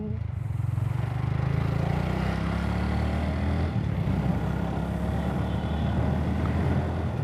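A motorcycle being ridden on the road, its engine droning loud and close with steady wind rush and rumble for the whole stretch, without speech.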